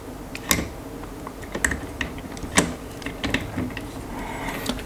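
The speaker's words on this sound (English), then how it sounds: "And we can screw it down with these little thumb screws." Thumb screws being turned by hand to fasten the pump of an Arctic Liquid Freezer II 360 A-RGB liquid cooler, with small, irregular clicks and ratchety ticks, close and fairly quiet.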